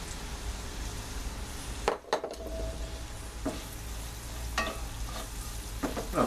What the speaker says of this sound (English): Now, onions and garlic. Saute these a little bit,